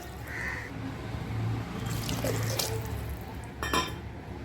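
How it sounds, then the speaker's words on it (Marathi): Water is poured from a bowl into soaked rice with field beans in a pressure cooker, a steady watery splash and trickle that swells near the end with a brief clatter of the pot. "ज्या वाटेने आपण तांदूळ घेतले होते त्याच वाटेने आपल्याला पाणी घालायचं आहे दीड वाटी प्रमाणात पाणी घालायचं आहे"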